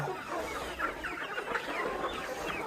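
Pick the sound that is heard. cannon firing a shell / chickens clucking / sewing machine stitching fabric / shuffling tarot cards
chickens clucking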